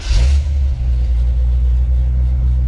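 The engine of a 1955 Ford F100 panel truck with aftermarket push-button start rumbles loud and close, a deep steady idle after a brief initial burst of cranking.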